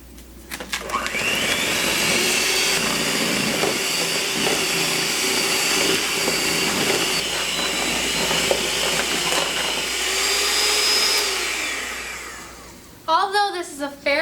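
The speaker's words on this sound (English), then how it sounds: "it's best to use a mixer because it's a little bit faster than just doing it with a spoon" An electric mixer churns dry ice ice cream with a loud, steady motorized whir that starts abruptly, holds for about twelve seconds, then winds down, followed by a brief voice.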